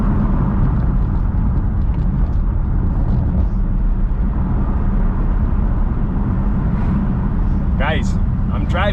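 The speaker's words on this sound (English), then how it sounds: "I'm driving my Audi R8" Audi R8 V10 sports car driving, a loud continuous engine rumble and road roar throughout, with a few short high squeaks near the end.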